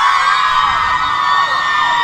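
Students of Bruria High School scream and cheer together as a crowd at the Israel Day Parade, a dense, loud, sustained roar with high whoops rising above it for the whole stretch.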